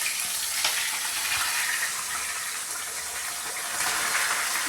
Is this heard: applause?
no